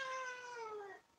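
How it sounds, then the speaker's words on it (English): A recorded cat sound played back through a Google Assistant smart speaker: a single drawn-out meow with a steady, gently falling pitch, lasting about a second and fading out at the end, heard alone without talk. "what does a cat purring sound like?"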